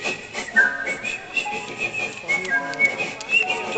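An audience member at a Sylvie Vartan concert in Lyon whistles birdlike trills from within a noisy crowd, the shrill warbling notes repeating in short bursts over hall chatter and ambient music.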